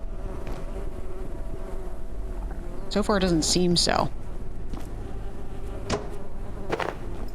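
Bees buzzing in the video game Abiotic Factor, a steady insect drone running through the whole stretch while someone talks over it.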